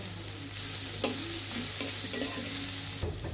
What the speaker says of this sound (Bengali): রসুন আদাটা ভালোভাবে একটু ভাজা ভাজা হয়ে গেলে আমরা এরপর চিকেনটা দিয়ে দেব।